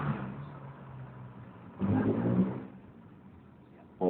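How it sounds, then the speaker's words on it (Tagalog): A jeepney, a customised "patok" jeep, revs its engine while overtaking on a street in Barangay Mali, San Mateo, with a mid-pitched motor rumble that surges loudly for a moment midway and then falls back to a steady road drone. "Yan po, mga patok na jeep. Mo-overtake sa daan."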